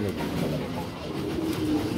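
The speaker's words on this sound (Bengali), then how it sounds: "ওকে, অনেক কবুতর, অনেক কবুতর।" Many pigeons coo at a pigeon market in low, continuous, overlapping calls close by, with people talking faintly among them.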